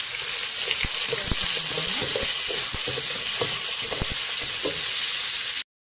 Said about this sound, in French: Je verse mes oignons.